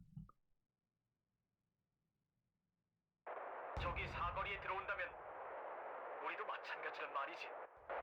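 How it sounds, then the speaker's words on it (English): Mortar fire in the Wargame: Red Dragon strategy game begins after a quiet stretch as a loud, sustained rumble of blasts and crackling impacts that runs to the end, with game voices mixed in. "There's the mortar."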